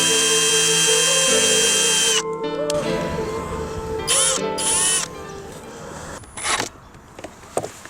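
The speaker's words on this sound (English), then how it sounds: "I'm gonna go ahead and drill very gingerly with this." A power drill whines steadily for a couple of seconds, then runs in short stop-and-start bursts with shifting pitch, close up, during reassembly of a 1996 Honda Civic sedan.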